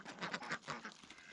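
Farm ducks and geese feed noisily on fresh winter vegetables, their quacking coming close and loud in quick, uneven bursts over a short stretch.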